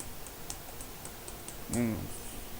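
A few faint, quiet keystrokes tap on a computer keyboard while a command is entered, followed by a brief voice near the end.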